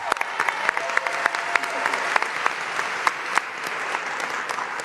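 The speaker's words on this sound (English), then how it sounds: "give everyone up here a round of applause." Crowd applause at an outdoor New York City mayoral announcement at a playground, sustained clapping from many people with sharp individual claps and a few whoops standing out, moderately loud and without speech.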